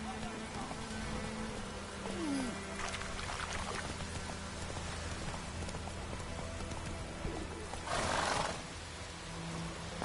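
Roach, a horse in a video game, neighs and whinnies over a dense rain-like wash of game ambience, with hoof clatter and faint voices mixed in.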